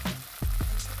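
Cumin seeds, coriander and mint hit hot oil for an aloo paratha filling, giving a brief, faint crackling sizzle with a couple of soft stirring knocks.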